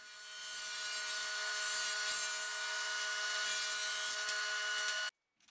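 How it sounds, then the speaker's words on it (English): A miter saw cuts through wood for picture frame stiles and rails, a loud, steady high-pitched whine that builds during the cut for about five seconds, then stops abruptly, leaving near silence. "Over at the miter saw, I'll trim one edge square,"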